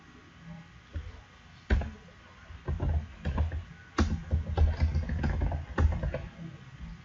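Typing on a computer keyboard comes through as a run of soft, irregular key clicks and taps, close by, with brief pauses between bursts and light background noise.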